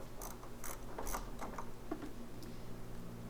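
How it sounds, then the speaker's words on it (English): A 14mm wrench backs out the caliper bolts on a Honda CBR 600RR, quiet close ratcheting clicks in a short uneven series against a faint background hum. "I've got a 14mm wrench on these caliper bolts"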